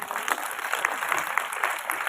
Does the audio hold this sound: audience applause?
yes